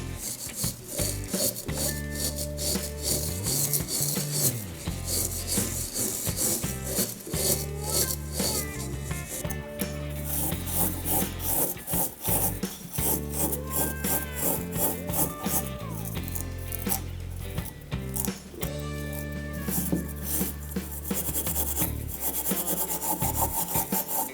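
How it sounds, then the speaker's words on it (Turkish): Repeated rough scraping and sanding strokes cleaning the fibrous husk off an emptied coconut shell, rhythmic and close, continuing steadily throughout. "Şimdi dışındaki torfu temizleyeceğiz"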